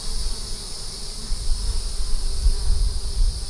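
Honeybees crawling on a hive frame holding nectar and pollen: a dense, steady buzzing hum close by, with soft low handling thumps underneath and no talk.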